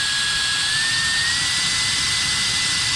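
A loud, steady rush of air from a Meco Eleverde battery-powered air duster at 100% power, with a thin whine that creeps slightly higher, running continuously without talk.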